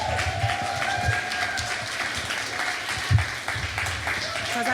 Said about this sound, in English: Yes, please give a big round of applause for a 5th favorite, Ash.